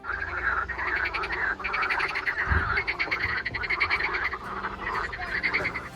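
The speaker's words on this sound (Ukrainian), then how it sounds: "В цьому місці живе оркестр жаб." A chorus of frogs near Zbarazh Castle in Ukraine croaks in steady, rapid pulsing trills, many voices overlapping continuously at moderate distance, with no talking.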